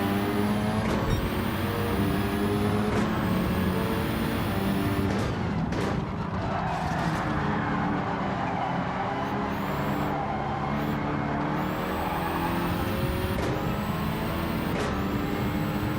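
Race car engines in Gran Turismo 7 during online lobby racing, with a Subaru among the field: a steady, loud engine drone with rising and falling gear-change sweeps and occasional sharp shifts, continuous throughout.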